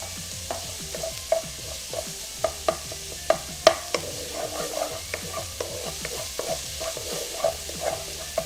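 Chopped vegetables sweating in a pan for vegan kimchi fried rice, stirred steadily with a spoon: repeated scraping knocks and clicks over a low, continuous sizzle, close and fairly quiet, with no talking.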